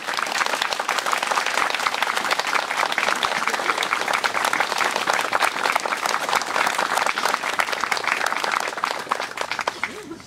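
Sustained applause from a community sing-along crowd at an outdoor homestead gathering, many hands clapping steadily and fairly loud for about ten seconds with a murmur of voices underneath.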